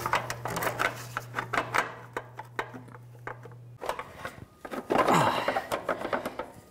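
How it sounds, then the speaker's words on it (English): Scraping, knocking and clattering as an exhaust heat shield is worked into place under a 2004–2015 Nissan Titan, with irregular close metallic taps and rattles, a steady hum in the background at first, then a louder burst of rubbing. "Now we can put in the heat shield from under the vehicle."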